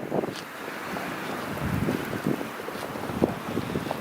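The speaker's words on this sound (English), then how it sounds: "You can hear the wind blowing." Strong wind blowing through a backyard, a continuous close roar with gusty buffeting against the microphone and no voices.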